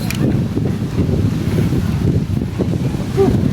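A strong, cold wind blows at a seaside spot, producing a steady, loud rumbling roar across the microphone with no voices heard.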